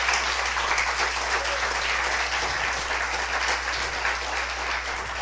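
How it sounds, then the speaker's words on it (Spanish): Loud, continuous applause from a church congregation fills the hall during a sermon, a dense wash of many hands clapping with a low steady hum underneath. "Denle un fuerte aplauso al Señor."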